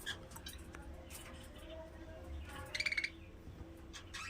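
Pet budgerigars kept for breeding in a home aviary give soft chirps and a quick burst of squawky calls midway, all fairly faint and close.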